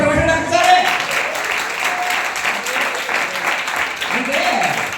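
An audience claps together in a steady, close wash of applause that carries on throughout, with voices mixed in underneath.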